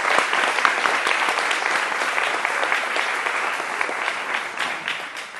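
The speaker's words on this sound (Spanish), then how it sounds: "otro aplauso, por favor." Loud, dense applause from a conference audience fills the whole stretch, sharp individual claps standing out near the start before it thins slightly at the end.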